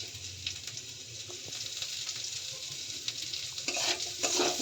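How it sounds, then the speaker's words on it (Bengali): Potato, chopped onion, tomato and chilli fry together in a pan for a prawn dish, giving a continuous sizzle with scraping stirs and a few sharp clinks of a utensil against the pan, growing busier toward the end. "এবার আবার একটু ভাজা হবে, পেঁয়াজ, টমেটো, লঙ্কা, আলু একসাথে"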